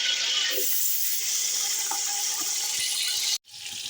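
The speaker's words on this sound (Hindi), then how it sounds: "ऑयल गर्म हो गया, अब इसमें शामिल कर देने हैं प्याज।" Sliced onions drop into a pan of hot oil (about 250 g) for beef pulao, giving a loud, steady, close sizzle that cuts off abruptly near the end.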